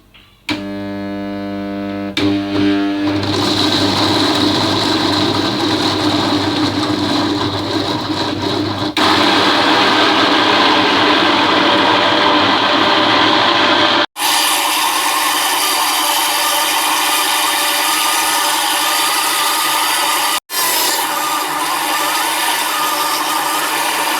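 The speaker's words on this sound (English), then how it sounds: "close the lid. You might have to press it a bit hard and then switch it on." A food processor grinds dry peanuts into peanut butter with a loud, steady motor whir and rough grinding rasp that runs continuously, briefly cutting out twice near the end.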